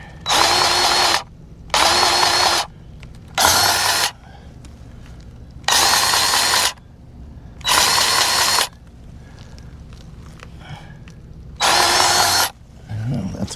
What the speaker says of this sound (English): So they said to pump it till you see grease come out one end or the other.